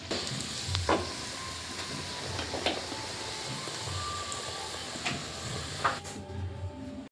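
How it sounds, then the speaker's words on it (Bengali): Luchi, small puffed flatbreads, deep-fry in hot oil during home cooking for a deity offering, making a continuous close sizzle with occasional soft stirring clinks and no voices. "এখানে লুচি ভাজা চলছে"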